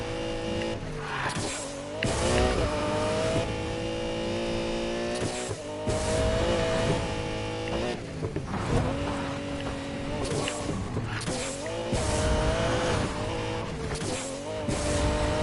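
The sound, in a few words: Lamborghini Murcielago racing, Need for Speed Payback video game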